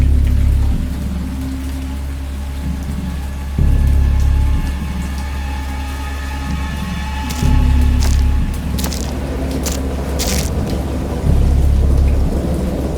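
Steady rain pours while deep thunder rumbles roll in at intervals, each lasting a second or so, with no voices, in the video game Dagon.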